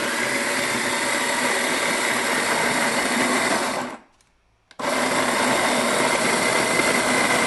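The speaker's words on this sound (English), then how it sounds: "now we're making a very coarse grind" A coffee grinder runs steadily, grinding beans to a coarse setting. The loud, dense whirring cuts out for under a second, then resumes at full strength until the end.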